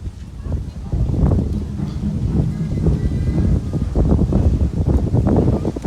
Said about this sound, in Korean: 바람만 안 불면 좋을 것 같은데 바람이 너무 많이 불어요